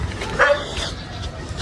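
Dogs near a seaside house in Mindoro bark briefly, a short yelp or two at moderate distance over a steady outdoor background.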